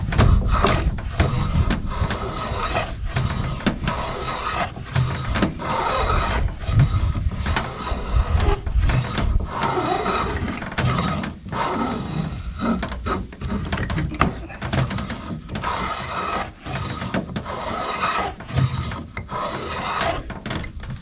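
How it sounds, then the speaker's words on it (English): Repeated rasping strokes of a hand plane shaving fiberglass, steady back-and-forth passes close up with no talking. "I'm just going to make a few passes with the hand plane and gradually bring this down"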